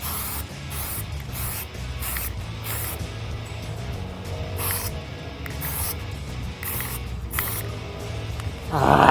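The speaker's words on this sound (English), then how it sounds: "Just sprayed the entire newspaper." Spray paint hisses in repeated bursts from an aerosol can coating hubcaps laid on newspaper, close and steady, with short pauses between passes.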